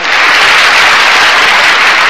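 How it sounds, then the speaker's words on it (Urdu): Dense, continuous audience applause at an all-India mushaira poetry gathering in Cuttack, 2005, loud and unbroken for the whole stretch. "جناب سہیل لکھنوی سے ایک نرم و نازک اور سچی غزل کے لیے تالیوں سے استقبال کیے جناب سہیل۔"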